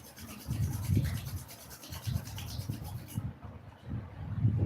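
Palms rubbing together during a guided meditation and pranayama session, a soft, steady swishing friction in repeated close strokes that stops near the end.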